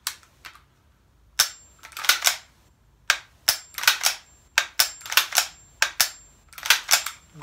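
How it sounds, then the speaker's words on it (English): Sharp metallic dry-fire clicks from an ALG Defense QMS trigger in a Bushmaster ACR rifle, a dozen or so close, crisp snaps of trigger pull and reset in irregular pairs and clusters, with no voices. "So let's do a trigger check. That's much nicer. And reset."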